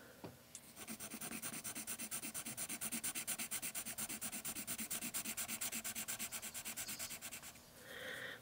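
Castle Arts colored pencil shading on paper at light to medium pressure, a close, steady, gritty back-and-forth rasp of quick regular strokes that runs continuously for around seven seconds without speech.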